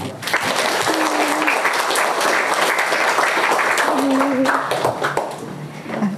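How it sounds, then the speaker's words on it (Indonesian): Audience applause at a university psychology faculty event welcoming a speaker, a dense, steady clapping that fills the room for several seconds, with a few faint voices and tones underneath. "Mari kita langsung sambut dengan tepuk tangan yang meriah Kak Hanifah."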